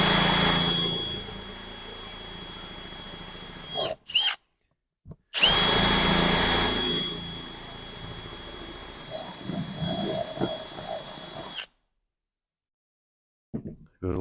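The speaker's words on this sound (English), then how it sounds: "I'll do 2, then I'll open it up a little with the reamer tool." A power reamer or drill whines steadily as it enlarges holes in a BMW headlight housing, loud and close, stopping briefly, starting again, then cutting off with a few faint knocks near the end.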